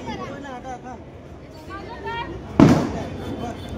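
A sharp Diwali firecracker burst cracks out loud and close amid a crowd's festive chatter, with talk running underneath throughout.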